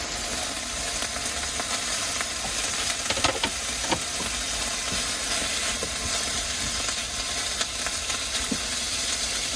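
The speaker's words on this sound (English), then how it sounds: "Put this in to fry off." Food sizzles and fries steadily in a pan on a low-heat stove inside a camper van, a continuous crackling hiss with a few small pops and clatters, close and unbroken, no talking.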